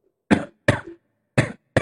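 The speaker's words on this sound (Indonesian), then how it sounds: "eh, terus batuk-batuk gitu." One person coughs four separate times, close and fairly loud, each cough a short harsh burst with quiet pauses between.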